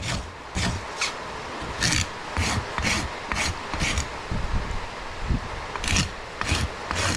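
A farrier's rasp files and levels a horse's hoof during trimming, giving a series of rough scraping strokes in an irregular rhythm, close and moderately loud with no talking.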